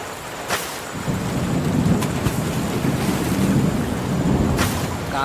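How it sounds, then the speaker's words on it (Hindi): Heavy cartoon rainstorm over a village pond, with a dense, steady hiss of downpour and wind and sharp thunder cracks bursting out near the start and end. "बहुत तेज बारिश हो रही है।"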